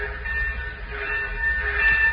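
A train sound effect from a radio drama rumbles low and steady, with a faint high whistle-like tone running on top and no voices over it.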